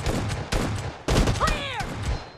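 Rapid bursts of gunfire from a team-based shooter video game crackle loudly in several clusters, with short gaps between volleys and faint game voices mixed underneath.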